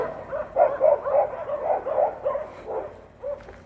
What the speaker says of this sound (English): here you can see the dogs chasing a car